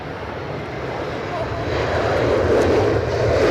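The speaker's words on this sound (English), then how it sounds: "Lufthansa in from Frankfurt." Lufthansa airliner arriving from Frankfurt at Edinburgh airport in wet, gusty 40 mph crosswinds, its engine roar steady and broad, swelling louder over a few seconds as the plane nears, with wind and spray noise around it.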